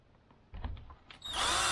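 A power drill drives a screw in a short burst of taps and whirring, then revs up to a loud, steady high whine in the final moments.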